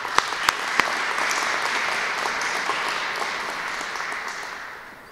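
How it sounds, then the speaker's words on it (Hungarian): Audience applause at a science festival opening ceremony at a Hungarian Catholic university, with a few sharp individual claps at the start before dense, sustained clapping that gradually fades near the end. "szerintem őt is tapsoljuk meg."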